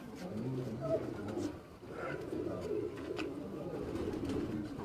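Pigeons coo softly from a rooftop in Quetta, Balochistan, low throaty calls repeating amid background murmur and distant voices.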